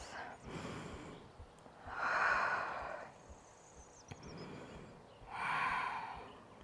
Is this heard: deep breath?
yes